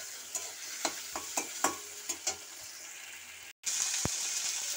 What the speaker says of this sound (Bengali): টমেটো আর আদা দিয়ে দিয়েছি, একসাথেই আমি নাড়বো।